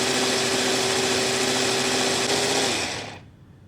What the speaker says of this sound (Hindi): अब चॉपर में हम फिर से लेंगे लहसुन की कुछ कलियाँ